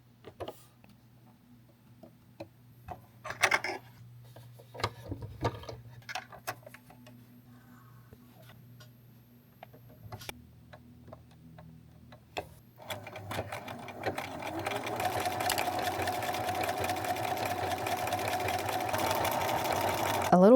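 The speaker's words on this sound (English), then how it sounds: "My machine has a whole bunch of stitches, and you can also use like a zigzag stitch." A home sewing machine stitches an overlock-style edge on bed sheet fabric, starting with scattered clicks and handling noises, then running continuously and fairly close in a fast, steady mechanical whir for the final several seconds.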